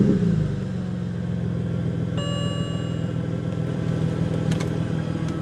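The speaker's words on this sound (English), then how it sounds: "and then click the button to start." A 2005 BMW 130i E87 with a manual gearbox and about 241,000 km fires up from cold, a brief start surge settling into a steady close idle rumble, with a short warning chime partway through.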